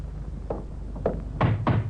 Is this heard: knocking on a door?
yes